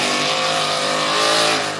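A tough truck racing engine roars on a dirt track, a loud, sustained near growl that swells slightly as it rounds the final corner.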